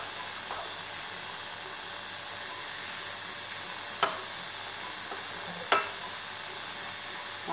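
Meat on the bone, such as ribs, browning in a pot for a ragù gives a soft, steady sizzle, with two sharp utensil clinks against the pot partway through.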